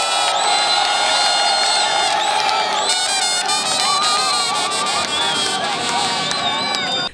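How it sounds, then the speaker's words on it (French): A crowd at an official ceremony for the launch of project works in Kananga, Kasaï, cheering, whooping and shouting loudly and continuously, with clapping mixed into the dense, excited roar. "Laissez-moi demander à mes frères et sœurs, tous ensemble, d'applaudir haut et fort."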